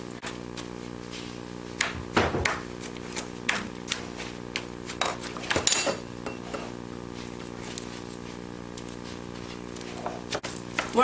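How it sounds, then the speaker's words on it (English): Beef lumpia filling is mixed in a bowl, with irregular clinks and scraping knocks of utensil against the bowl, some louder, spread over a quiet background. "we're mixing the lumpia, beef lumpia right now, and Emme is chopping the carrots"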